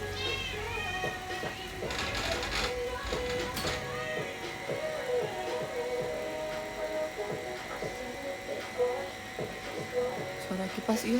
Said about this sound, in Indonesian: Suara kipas iya kan pakai ini.